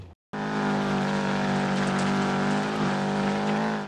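Rally car from the Dirt Rally video game roaring at steady high revs, its loud sustained engine drone with shifting harmonics and tyre noise over gravel, briefly silent at the start then continuous to the end.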